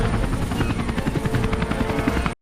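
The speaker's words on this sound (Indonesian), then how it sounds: "Ternyata itu helikopter." A helicopter arriving in the 2011 film Paul, its loud, steady rotor thrum and turbine whine filling the scene continuously and close, with no talk over it.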